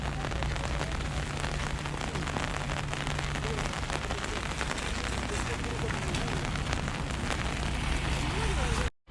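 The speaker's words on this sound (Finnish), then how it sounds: "Ja täällä alkoi sataa ihan kaatamalla." Pouring rain on Miyajima island, a loud steady hiss of heavy rain striking surfaces all around, with faint low voices beneath it.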